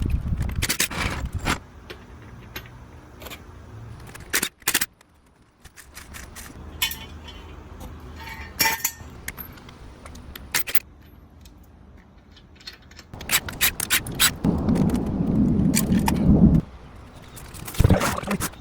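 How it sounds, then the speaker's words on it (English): Scattered metallic clanks, scrapes and rattles as the wheel comes off a 2011 Jeep Grand Cherokee Limited, with sharp knocks separated by quieter gaps and a busier burst of scraping near the end. "Let's go ahead and get the wheel off."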